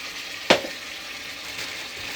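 Ground spice paste fries in hot oil for a togarykaayi sambar, giving a steady soft sizzle with one sharp spattering pop as it hits the pan.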